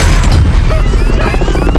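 Dense, loud film-soundtrack barrage as a cannon is fired at a helicopter, with deep booming crashes and continuous low rumble filling the whole short stretch, no speech.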